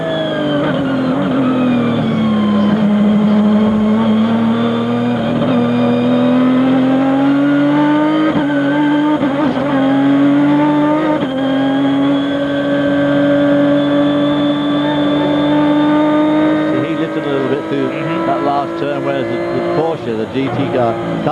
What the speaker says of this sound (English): Boy, there's nothing like the sound of a Ferrari V12.